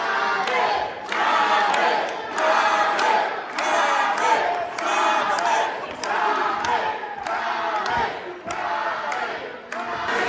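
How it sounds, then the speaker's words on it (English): A wrestling crowd at an SCW Hangover High Voltage show cheers and shouts in loud, sustained waves, with swelling bursts of yelling rising and falling steadily throughout. "Tommy Gunn trying to get the crowd into a frenzy"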